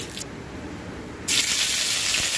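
Curry leaves hit hot oil in a pan while rice upma is being made, bursting into a loud, bright sizzle that jumps up suddenly and keeps hissing steadily, close by.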